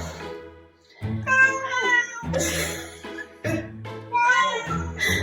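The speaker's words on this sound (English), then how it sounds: "The cats are stuck in the laundry room." Cats shut in a laundry room meow repeatedly, several loud, drawn-out cries in quick succession with short pauses between, close by.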